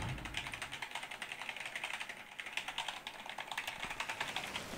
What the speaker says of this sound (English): typing out a thesis right now